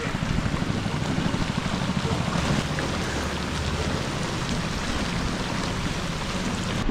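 Steady rain falls around a small rowing boat on a river tour at Tam Coc, Ninh Binh, Vietnam, a dense constant patter and hiss close by with no talking.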